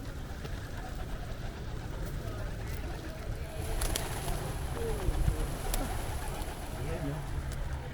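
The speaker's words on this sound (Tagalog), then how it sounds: "mga kalapati, nag-enjoy" Pigeons cooing outdoors in Cork, Ireland on a summer day, soft low coos scattered through steady ambient noise with faint background voices.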